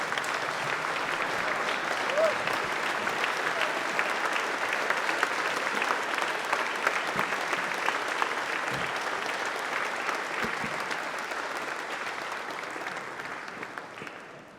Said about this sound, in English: please give a round of applause to Alan Six-Man Horwitz